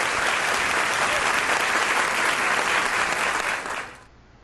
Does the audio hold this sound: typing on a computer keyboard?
no